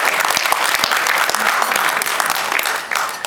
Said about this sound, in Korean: 앞으로도 많은 관심 부탁하는 의미로 큰 박수 부탁드리겠습니다